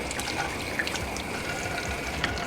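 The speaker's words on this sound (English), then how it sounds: "Just pull this up, the water flows out, wash your hands" Water pours from a pull-up washing-sink tap at a beach on Phu Quoc Island, a steady, close splashing flow with a few small drips over the brief stretch.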